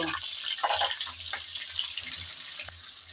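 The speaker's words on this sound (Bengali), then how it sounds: "হলুদ দিয়ে নেড়ে চেড়ে মাছের মাথা আর আলু বেজে নেব" Fish head and potato pieces sizzle in hot oil with turmeric, a steady soft frying hiss with a few louder spatters.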